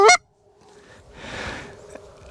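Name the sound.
goose honking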